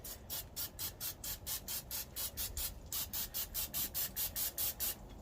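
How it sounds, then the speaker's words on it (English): Rapid repeated hissing bursts from a spray bottle of avocado or olive oil onto grilling food, about twenty quick pumps in an even rhythm, close and fairly quiet. "I'm going to spray them with a little bit of avocado oil or extra virgin olive oil"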